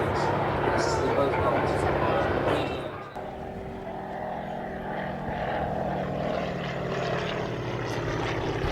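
Radial-engine propeller aeroplane flying over the sea at an air show, a steady droning engine hum at a distance, with a commentator talking over it on a public address system.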